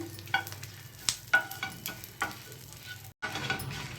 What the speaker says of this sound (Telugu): మనకి ఎండుమిర్చి కూడా ఫ్రై అయిపోయిందండి